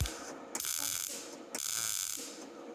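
Squeezing a welder's trigger for a tack weld gives a harsh, crackling electrical buzz that cuts in abruptly, runs for about a second, and then starts again with a second burst, close and loud, with no voices.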